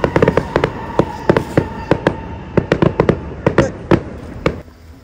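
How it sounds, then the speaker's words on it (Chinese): Fireworks go off at night behind a poolside barbecue at a luxury resort in Bali: a rapid, irregular string of loud, sharp cracks and bangs, some in quick clusters, that thins out and fades at the end. "突然间后面开始放烟花"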